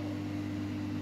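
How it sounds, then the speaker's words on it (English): Bathroom extractor fan running beside an electric pump shower, a steady low hum with a constant tonal drone, faint and unchanging throughout. "as you can hear, the extractor fan there, fully functional"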